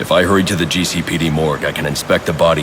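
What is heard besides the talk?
No distinct noise like a dog, phone or traffic.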